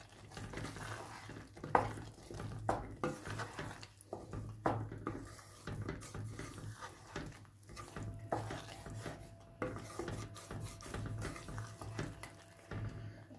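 Urad dal being stirred and mixed in a pot with lemon juice and coriander, a steady scraping and rubbing of spoon against metal, with occasional sharper clinks, close and moderately quiet throughout.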